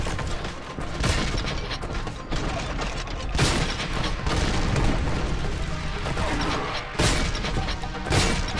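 Shotgun blasts and crashing impacts from the video game Warhammer 40,000 Boltgun, a dense, loud barrage with several sharp booming shots standing out over continuous game noise and someone talking.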